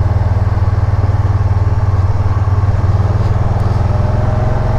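A 2011 Can-Am Spyder RS-S three-wheel motorcycle engine runs steadily and close, a loud low rumbling throb that holds without break for the whole stretch, with no voices.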